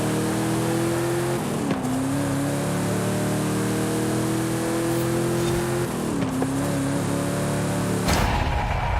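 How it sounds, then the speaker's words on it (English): A car launches hard with its tires spinning all through first gear in a speed run. The engine drones loud and steady, with a couple of brief pitch dips as it strains and the wheels slip. "A lot of tire spin at first, pretty much all through first gear."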